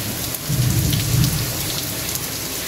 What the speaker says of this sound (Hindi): ये देखिए सुबह से लगातार इस तरह से बारिश चल रही है।